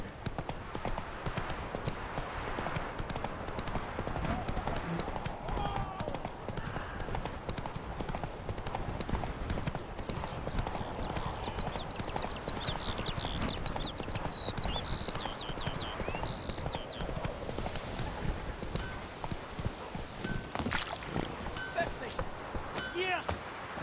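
Horse hooves trotting in The Witcher 3 gameplay, a steady rapid clip-clop continuing throughout at moderate volume, with faint ambient sounds and occasional voices beneath.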